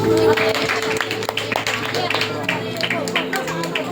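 A church Sunday School program audience keeps clapping in a quick, steady patter of hand claps, with voices heard over it.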